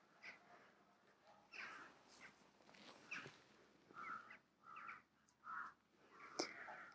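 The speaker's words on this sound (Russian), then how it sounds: "Вороны полетели, слышите?" Crows flying over a southern garden on a November day give a series of faint, distant caws in short separate bursts over quiet outdoor background.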